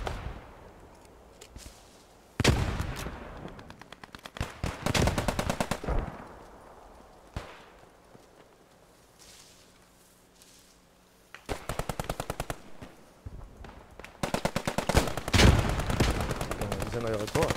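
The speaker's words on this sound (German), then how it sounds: "Schießt aus dem Haus." Bursts of automatic gunfire from a house in the WWII shooter Post Scriptum, loud rapid volleys at about 2–6 s and again from 11.5 s to the end, with quieter gaps between.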